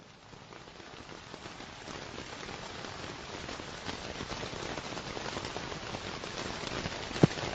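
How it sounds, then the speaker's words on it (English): Rain on a tent, played back as an ambient sound: a dense, steady patter of drops on fabric, faint and even throughout, with one small tap near the end. "Rain on tent."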